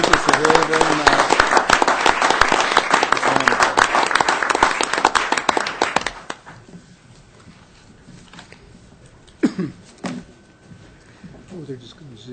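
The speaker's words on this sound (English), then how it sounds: "I'd like to give everybody here that's a part of this a round of applause from the entire audience one more time" An audience at a Moscow city council meeting gives a loud, dense round of applause that lasts about six seconds, then stops abruptly, leaving quiet room noise and a few scattered knocks.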